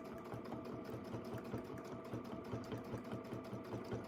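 A sewing machine running steadily in free-motion mode, stitching small pupils onto a fabric ghost appliqué, a close, continuous rapid whirring hum with fine needle chatter throughout and no talking.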